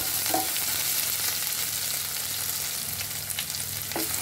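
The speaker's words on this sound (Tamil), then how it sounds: "நல்லா உருளைக்கிழங்கு கொஞ்சம் நல்லா வந்து இந்த எண்ணெயிலே ஃப்ரை ஆகணும்." Potatoes and garlic frying in hot oil, a dense continuous sizzle with occasional soft stirring scrapes, close and steady throughout, with no talking.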